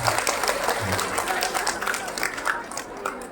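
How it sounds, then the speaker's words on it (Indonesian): An audience at a religious sermon and dzikir gathering applauds in a thick, steady wash of clapping that stays strong the whole time, with a few low voices underneath. "Tepuk tangan buat beliau, tidak apa-apa."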